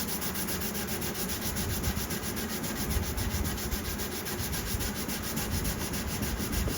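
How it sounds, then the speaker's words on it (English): Sandpaper rubs a nick out of a pine guitar neck in a steady, close, continuous scratchy hiss of rapid back-and-forth strokes, with no voices. "So I'll have to sand that out."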